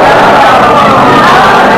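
A lecture audience responds with loud massed voices chanting salawat together with applause, a dense, close and continuous crowd roar filling the whole moment.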